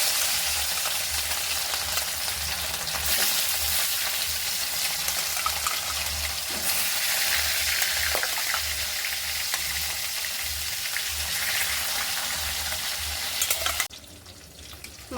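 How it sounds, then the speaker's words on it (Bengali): Salted, turmeric-coated fish pieces fry in hot mustard oil in a wok, a loud, continuous close sizzle and crackle with some stirring, cutting off abruptly near the end. "তেল কড়াই খুব ভালো গরম হয়ে গেছে, ধমায়িত কড়ার মধ্যে দিয়ে দেবো নুন হলুদ মিশিয়ে রাখা মাছের টুকরো"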